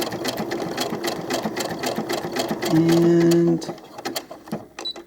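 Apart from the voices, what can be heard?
sewing machine stitching doll clothes fabric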